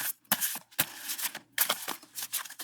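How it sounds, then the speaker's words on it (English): A deck of playing cards is shuffled by hand in short, crisp riffling bursts, several quick flutters separated by brief pauses, close and clear with no talk. "I'm going to try to shuffle"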